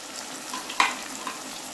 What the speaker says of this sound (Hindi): अब इन सब मसालों को अच्छे तरीके से मैं भून लेती हूँ।